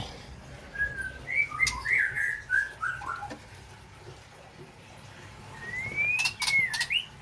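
Agitated magpie robins call at a breeding farm, with fluid whistled phrases and sharp chirps coming in two bursts over quiet background noise, moderately close.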